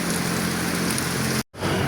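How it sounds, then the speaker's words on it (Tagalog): Steady, dense rain pours down with a windy hiss, broken by one very brief cut before continuing, and no one speaks. "pero malakas pa rin yung ulan."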